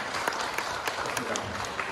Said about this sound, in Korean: 큰 박수 부탁드리겠습니다, 여러분.